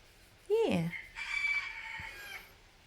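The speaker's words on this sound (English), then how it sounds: "Chickens are hungry." A rooster crows close by with a rising then falling call, followed by softer clucking from farm chickens near a backyard coop.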